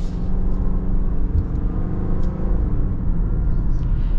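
A 2024 Subaru Forester with a four-cylinder engine driving on the road, heard from inside as a steady loud low engine drone and road rumble with a faint harmonic hum and no talking.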